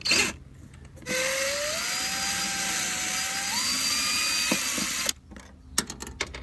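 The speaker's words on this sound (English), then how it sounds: "You attach the unit to your cordless drill or impact driver." A cordless drill with a DeWalt right-angle driver attachment whirs steadily for about four seconds while driving a screw, its pitch climbing slightly, then cuts off, followed by a few light clicks and taps.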